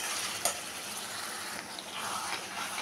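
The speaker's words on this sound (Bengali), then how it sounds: "আমি কষাচ্ছি, এখন আমি প্রায় 10 মিনিট আমার কষানো হয়ে গেছে" Chicken liver and gizzard sautéing over a high flame give off a steady, moderate sizzle, with a few light clinks of a utensil stirring against the pan.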